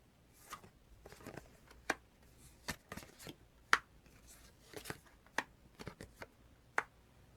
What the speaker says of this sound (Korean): 숫자 카드 공개하도록 할게요.